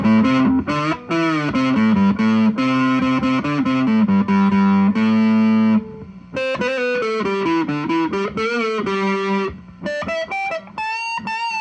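Electric guitar run through a Behringer UO300 Ultra Octaver pedal with the direct signal high and the first octave-down voice blended in, giving thick, fuzzy sustained chords and riffs, loud and continuous with short pauses between phrases.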